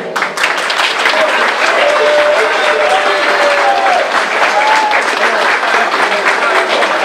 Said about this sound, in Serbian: Može malo veći aplauz za naše kumove.